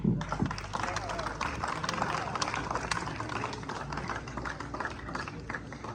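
An audience at an event for students, cadets and faculty claps steadily for a speaker, a dense, even wash of applause throughout with a voice faintly under it.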